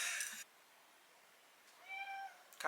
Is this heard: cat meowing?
yes